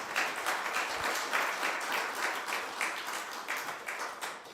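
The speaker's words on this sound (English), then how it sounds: "They truly deserve a big round of applause." An audience at a tech forum applauds two colleagues, a dense steady patter of many hands clapping throughout, moderately loud in a hall and tapering slightly at the end.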